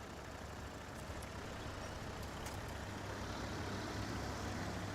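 Heavily loaded Kenworth truck grinding uphill in SnowRunner, a steady loud low engine drone that holds and swells slightly throughout, with no talk.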